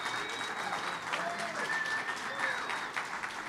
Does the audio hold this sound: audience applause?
yes